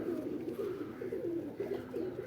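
A pigeon coos in soft, repeated rolling phrases, close by and steady, with no talk over it.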